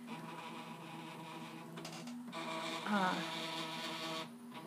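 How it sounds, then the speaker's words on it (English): 3D printer running in a home, its stepper motors whirring in shifting tones with a brief rising sweep partway through, while a person speaks quietly over it. "you can hear the wonderful sounds of the printer"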